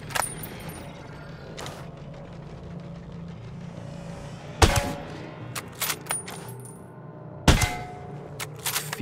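Shots from Ghost Recon Breakpoint crack out as sharp, loud bursts spaced several seconds apart, with a few smaller pops between them over a continuous low game ambience and rumble.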